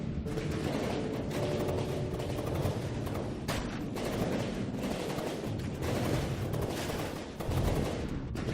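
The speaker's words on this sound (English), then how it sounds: "Rapid fire Gatling weapon. It's very fast" Rapid automatic bursts from a Gatling weapon in the naval combat game From the Depths, a dense continuous rattle of gunfire with deeper booms mixed in, loud and steady throughout with no talking.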